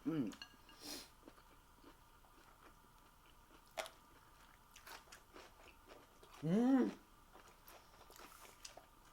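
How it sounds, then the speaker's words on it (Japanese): Close, soft crunches of someone biting into and chewing pickled rakkyo shallot, a few irregular crisp bites and moist chewing with quiet gaps, alongside a light clink of dishes. "らっきょう食べてみようかな。"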